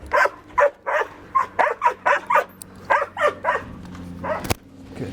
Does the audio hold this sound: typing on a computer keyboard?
no